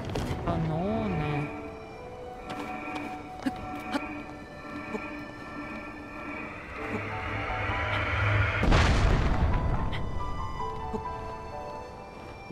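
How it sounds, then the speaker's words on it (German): Cannons fire at gates in a video game, producing one heavy, close boom with a rumbling tail midway through, over steady game music and ambient tones. "das muss ich die Kanonen dazu bringen, auf die Tore zu schießen"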